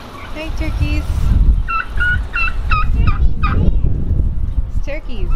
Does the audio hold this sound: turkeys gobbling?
yes